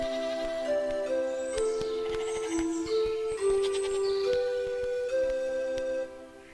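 Goats bleat in a cartoon: a run of loud, drawn-out, tonal bleats that overlap and step up and down in pitch over about six seconds, ending abruptly.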